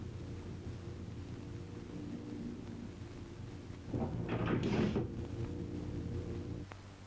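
Passenger door of a Tokaido Shinkansen train opening: a short, airy rush of hissing and sliding about midway, over a steady low hum, fairly faint and without talk.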